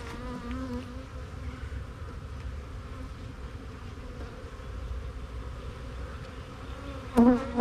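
Honey bees and black drones swarming over a hive frame of honey and pollen, a dense continuous buzzing hum close to the ear, with a louder burst near the end.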